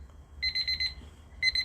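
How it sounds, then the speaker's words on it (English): An alarm timer goes off with quick bursts of high electronic beeps, a rapid run of pulses, a pause, then another run starting, clear and fairly close in a quiet room. "Because the timer done went off."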